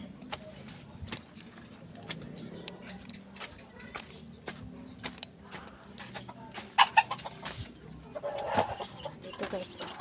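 Chickens cluck behind a rural farmhouse, scattered short clucks and soft calls at close-to-mid distance, with light rustling and a few louder bursts near the end; no clear talk.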